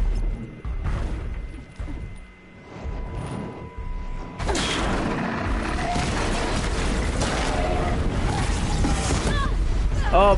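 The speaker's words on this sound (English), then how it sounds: "Oh boy, that was one big explosion." A big explosion in the video game Horizon Zero Dawn erupts as a sudden loud boom, followed by a sustained rumbling, crackling roar that fills the rest of the moment.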